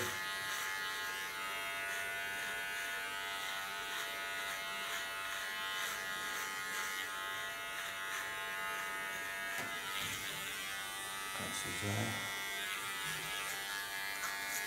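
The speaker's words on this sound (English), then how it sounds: "So I don't even lean on the clipper, so just gently" An electric hair clipper shaves the nape of the neck with a steady, close buzzing hum that runs throughout without pause, the pitch shifting slightly as the blade is gently drawn over skin and hair.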